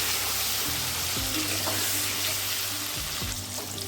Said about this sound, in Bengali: পটলটা ভাজা হয়ে গেছে